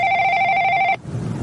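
A telephone rings with one steady, loud electronic ring that cuts off abruptly.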